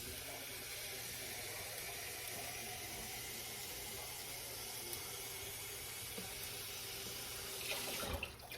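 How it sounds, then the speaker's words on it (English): Water running from a tap into a pot of pinto beans with a ham bone, a faint, steady hiss of flow that holds evenly throughout, with a small clatter near the end. "I'm going to put enough water in here to just cover the beans"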